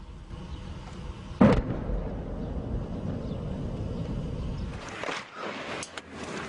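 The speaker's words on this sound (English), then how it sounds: "even as they're hit by incoming shells and mortars" Incoming shells and mortars explode near a dockside between piers, with one sharp, loud blast standing out against a constant rumbling roar of engine and wind, followed later by fainter thuds.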